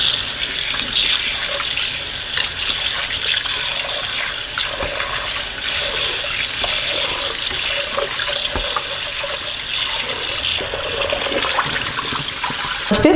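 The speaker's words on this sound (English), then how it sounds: "pour this yucky water off and replace it with some clean water" Steady tap water pours and splashes continuously into a container, loud and close, with a few small knocks and clatters.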